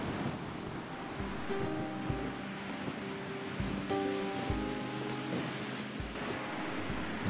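Ocean waves wash onto a beach beside a camping ground on Callie's Beach, making a steady, broad, continuous surf roar with no pauses and no voices.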